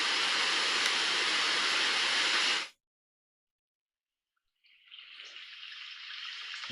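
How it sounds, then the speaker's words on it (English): Heavy rain recorded for tinnitus relief gives a dense, full hiss that cuts off abruptly. After a gap of silence, a lighter, thinner rain sound rises. "And this is a heavy rain."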